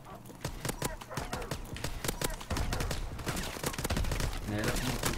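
Rapid bursts of video game gunfire, dense and sharp, crackling steadily through the stretch and growing louder in the second half, with a player's voice talking over it.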